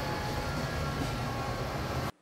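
A train rumbles steadily nearby, a loud continuous roar of wheels and engine that cuts off abruptly at the end.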